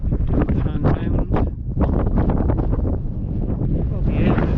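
Strong wind on the Simonside Hills buffets the microphone in a loud, continuous rumble, with a muffled voice partly audible beneath it.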